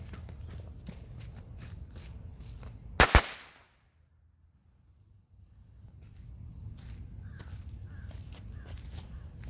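Two sharp firecracker bangs, an older and a new firecracker going off almost together, followed by near silence before faint background noise slowly returns.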